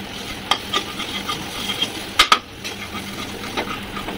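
Lote fish and spices sauté in a pan, a soft steady sizzle at close range broken by a few metallic clinks and scrapes from a stirring utensil.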